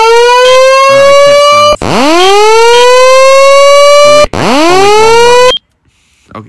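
Simplex voice-evacuation fire alarm siren in a Roblox game, loud rising whoops that sweep upward and hold, repeated three times back to back, then cutting off into near silence.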